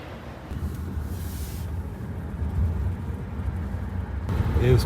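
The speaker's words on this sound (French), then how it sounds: "Là, on est dans le taxi, en route pour la Marina Piccola" A taxi rolls along a road in Cagliari, Sardinia, its low engine and tyre rumble steady and moderately quiet inside the cabin, with faint voices toward the end.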